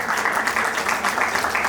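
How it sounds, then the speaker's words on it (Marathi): Applause for the winning team players at an event: a crowd claps in a steady, fairly dense rhythm at moderate loudness, with no talk over it. "टाळ्या."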